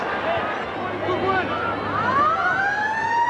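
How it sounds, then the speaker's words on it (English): A rugby league match siren wails with rising, sweeping tones in the distance, under steady crowd noise and someone talking. "There's the siren in the background."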